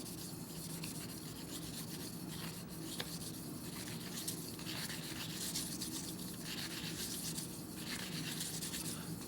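Quiet, continuous rubbing strokes come from polishing the factory finish off a Demko AD20S knife blade under light pressure, a soft, even abrasive swish with no talking.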